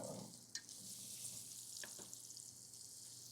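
Carrots, celery and onion for a mirepoix begin to roast in a hot pan, giving a steady soft sizzle throughout with a couple of brief clinks of vegetables landing, fairly quiet and with no talking.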